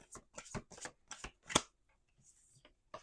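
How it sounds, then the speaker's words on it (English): A deck of tarot cards is shuffled up close in a quiet room, a quick series of crisp riffling bursts that trail off into soft handling sounds. "We're going to do 2 more shuffles."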